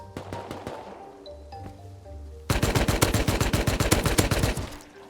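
Gunfire in the survival game Rust: a few scattered single shots and thuds at first, then a loud rapid burst of automatic fire for about two seconds that tapers away.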